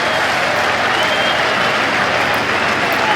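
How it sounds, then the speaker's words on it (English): Spectators at an England v New Zealand Test cricket match applaud a batsman surviving a short ball, a broad, continuous wash of clapping from the gathered crowd that holds loud and steady throughout. "Anderson survives to great applause from the crowd that's gathered here"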